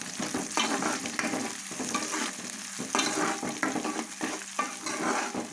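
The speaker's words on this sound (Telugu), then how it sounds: "చూసారు కదా మనకు ఫ్రై అవుతుంది" Onions with coriander stems fry and sizzle in a pan for a fish curry, a steady close hiss broken by repeated stirring scrapes, with no talk.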